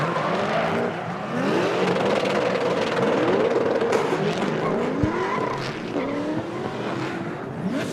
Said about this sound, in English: looks like Daniel Parsons kind of straightened out or came out of drift